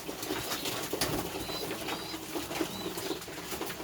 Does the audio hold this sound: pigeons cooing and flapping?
yes